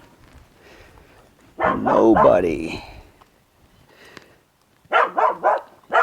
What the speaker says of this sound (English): So all days, dogs are barking.